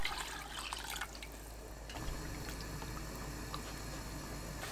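Water pours and splashes steadily into a pot holding chicken, a continuous liquid rush that changes tone partway through as it fills.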